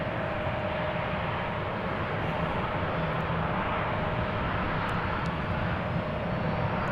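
An Air France Embraer 170 airliner takes off at Amsterdam Schiphol, a steady, broad jet-engine roar holding at moderate distance without break or talk.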